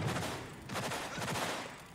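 Rapid bursts of gunfire rattle through a firefight in Cyberpunk 2077, dense overlapping shots forming a loud, continuous fusillade over two seconds.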